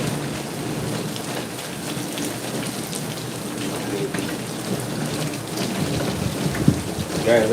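Heavy, steady downpour during Hurricane Melissa in Spanish Town, Jamaica, with dense rain hiss throughout and a low thunder rumble building toward the end; a faint voice is briefly heard.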